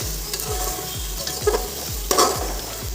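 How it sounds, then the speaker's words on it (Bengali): Masala spices sizzle in a hot pan with cashews and raisins while a spatula stirs them in quick, rhythmic scrapes. Continuous frying hiss runs underneath, with a couple of louder scraping strokes up close. "এখন ভালো করে মশলাটাকে কষিয়ে নেব"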